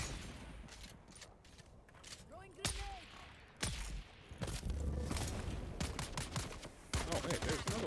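Gunfire in the video game Dune: Awakening, with several sharp shots and bursts cracking over a dense, noisy in-game soundscape that stays loud and busy throughout.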